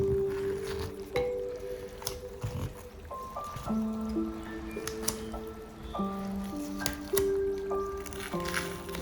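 Potato and eggplant pieces being mixed with a soy-based sauce, wet squishing and soft clacking stirs repeating irregularly, close with faint background hum.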